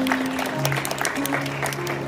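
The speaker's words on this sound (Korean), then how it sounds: "내빈 여러분께서는 큰 박수로 답례해 주시면 감사하겠습니다" Wedding guests clap in a dense, steady round of applause lasting a couple of seconds, filling a reception hall.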